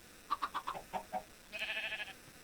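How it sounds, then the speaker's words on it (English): Sand chickens spawn in Minecraft Sky Factory 3 with a quick series of about six short clucks, then a brief higher warbling squawk, clear and fairly close. "And this should spawn us a couple of nice sand chickens."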